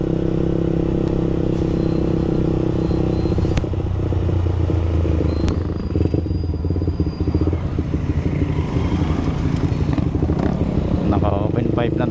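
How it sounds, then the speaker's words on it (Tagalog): A Honda CBR150 motorcycle with an open exhaust pipe idles with a loud, steady, rumbling drone close by, with occasional clattering throughout and no speech. "Naka-open pipe na daw tayo."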